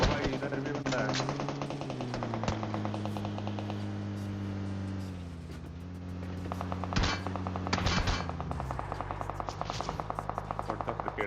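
Rapid machine gun bursts in PUBG Mobile, sharp repeated shots in several strings over a droning vehicle engine, with a player talking intermittently.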